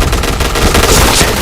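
Rapid automatic gunfire from the online shooter game Point Blank rattles loud and continuous, bursts of shots packed densely together with no pauses and no talk.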